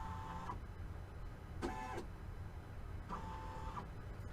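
An embroidery machine traces the design position over a shirt, its motors giving short whirring moves against a steady background hum, with no voices.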